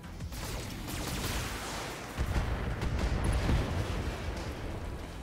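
A mech in the BattleTech game fires all its weapons, including missiles, in a sustained roaring barrage of dense rumbling blasts and crackle that swells louder midway and keeps going for several seconds.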